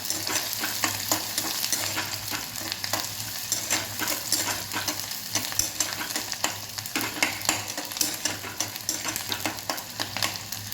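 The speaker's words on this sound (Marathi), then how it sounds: "कांदा हलका असा ट्रान्सपरंट करून घ्यायचा आहे मिक्स करायचं ह्याला छान" Onion being sautéed and stirred in a pan while making shepu bhaji with moong dal, with a continuous sizzle and repeated scraping strokes of a spoon, close and loud, without talk.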